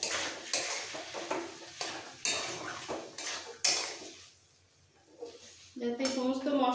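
Spiced potato filling for egg devils is stirred and tossed in a pan, with repeated scraping and clattering utensil strokes and a light sizzle, then a brief lull before a voice speaks at the end.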